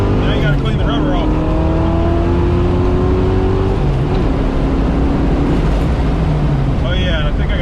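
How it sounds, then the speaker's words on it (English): Foxbody Ford Mustang doing a burnout, its engine roaring loud and steady with rising revving tones and a constant harsh hiss of frying tires throughout. "you wanted tire frying on the channel. I've cleaned the rubber off."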